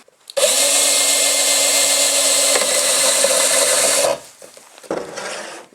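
A power drill whines steadily for about four seconds as it bores into wood, then cuts off, followed by a shorter, quieter burst of drilling.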